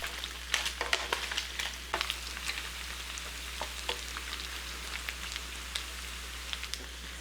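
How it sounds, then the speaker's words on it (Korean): Sliced garlic stir-frying with smoked duck in a pan, giving a soft continuous sizzle with scattered light scrapes and clicks over a low steady hum, no voices. "마늘이 익을 때까지 볶아주세요."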